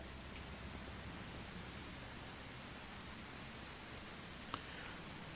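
Steady rain in the zombie survival game Surroundead, a dense even hiss of falling drops with no letup, with one brief tick partway through.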